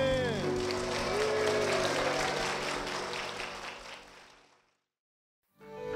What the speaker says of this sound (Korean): 주신 주님께 영광의 박수를 드리겠습니다